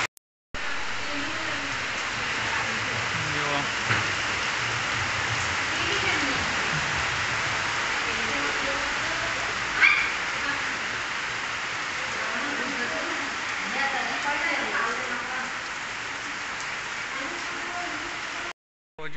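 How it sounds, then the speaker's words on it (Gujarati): Heavy monsoon rain pours steadily outdoors, a dense unbroken roar holding for nearly the whole stretch with no voices over it. "જબરજસ્ત વરસાદ ચાલુ થઈ ગયો."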